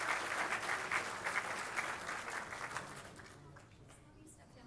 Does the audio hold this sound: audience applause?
yes